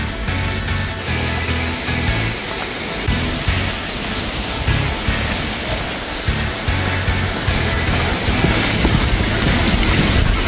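Steady heavy rain pours down in Karlovy Vary, a dense unbroken hiss of drops on hard surfaces close by, with low rumbling noise underneath and no voices.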